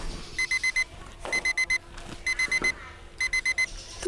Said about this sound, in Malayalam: ഈ സമയത്ത് തന്നെ ഞാൻ അലാറം വെച്ചത്.